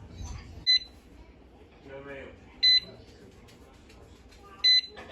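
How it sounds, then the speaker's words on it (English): A Presto digital pressure canner gives three short electronic beeps at even intervals, close and clear, over faint room noise and a quiet voice. "So it just beeped and it says that it is done"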